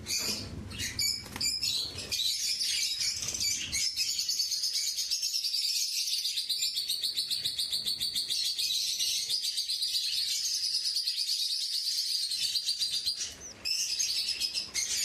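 Budgerigar chicks and adult budgies chirp and twitter continuously in a breeding box, a dense, high, busy chatter that runs almost the whole time with brief rustles and knocks near the start.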